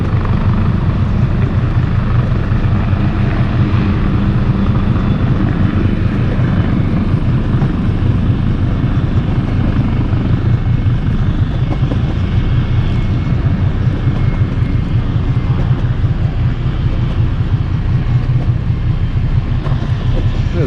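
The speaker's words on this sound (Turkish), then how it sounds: "Şu an helikopterimiz e, iniş yaptı. Motorlarını durduruyor şu an." Helicopter setting down on an island, its engine and rotor roar filling the whole stretch as a steady, loud, close drone with no voices over it.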